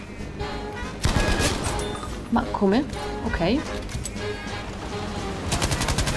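Bursts of rapid gunfire and shooting crackle through a war video game, dense and continuous under excited talking and shouting from players.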